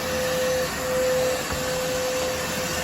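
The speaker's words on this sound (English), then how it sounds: "If anyone's wondering what the vacuuming is." Vacuum cleaner running steadily inside a store under construction, a loud continuous motor drone with a sustained tonal whine, unbroken and close throughout, with no talking.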